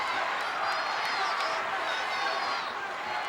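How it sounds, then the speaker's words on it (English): Dense wrestling arena crowd at a WWF event, a steady roar of cheering and voices filling the space with a constant wash of noise, no single voice standing out. "Listen to this crowd."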